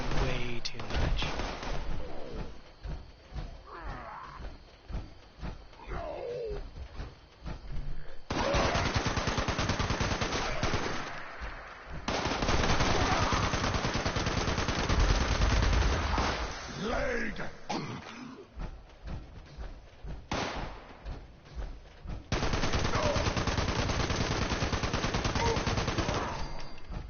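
Gunfire from the video game Fallout 76, bursts of rapid automatic shots alternating with quieter gaps over nearly half a minute, someone talking at times between volleys.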